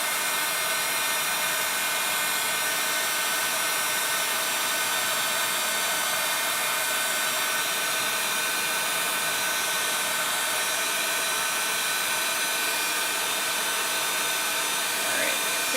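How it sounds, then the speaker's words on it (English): Heat embossing gun sweeping over an embossed stamped card image, a steady airy hum with broadband hiss held at an even level throughout, close and continuous without pauses. "So definitely keep your embossing gun moving and covering that whole image, and not too long."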